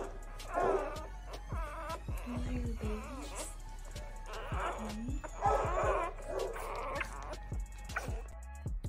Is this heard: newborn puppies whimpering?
yes